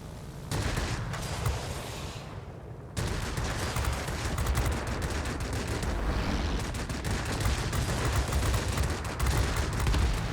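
Twin Yak-9U guns on a Tu-1 heavy fighter in World of Warplanes fire in long, loud, rapid bursts with a brief pause, the dense chattering fire filling nearly the whole stretch.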